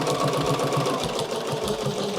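A sewing machine quilting straight lines in an X design hums steadily and continuously at close range, a fairly loud mechanical drone with a faint rhythmic pulse and no talk.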